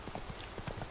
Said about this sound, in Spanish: Vamos a coger al caballo.